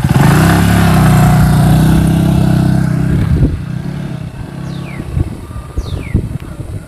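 A motorcycle engine revs loudly nearby, then the roar drops away and fades, leaving faint clattering and quiet background.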